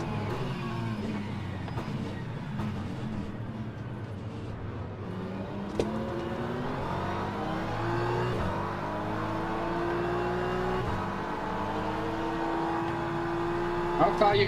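Porsche prototype race car engine in the Le Mans Ultimate sim racing game, a steady droning roar with rising and falling pitch as it revs through gears, running throughout under a voice talking.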